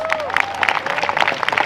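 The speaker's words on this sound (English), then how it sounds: "Please give them a big round of applause." An audience at Kona Nui Nights on Oahu claps for the hula group Halau Ilima Ku Kahakai, a brief burst of scattered crowd applause heard beneath a voice speaking over it.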